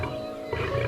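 A lion's low, rumbling roar, a deep sustained growl that swells slightly toward the end, heard alone without talk.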